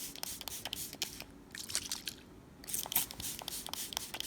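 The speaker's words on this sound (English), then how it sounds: "So I'm just spraying" A series of short, sharp hissing spritzes from a spray bottle of witch hazel and lavender oil, repeated in quick bursts with brief pauses, close and fairly quiet.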